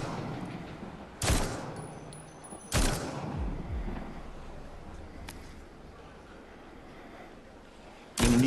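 Three sharp, loud gunshots in The Walking Dead Onslaught video game, fired singly at spaced intervals with quiet gaps between them, the last shot cut off at the end.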